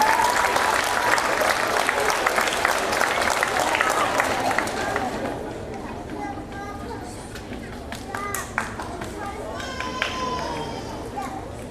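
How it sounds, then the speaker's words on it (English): Audience clapping at an elementary school fifth-grade graduation, a loud, dense round of applause that fades after a few seconds into scattered claps, children's voices and crowd chatter. "let's give Ms. Painter's class a big round of applause"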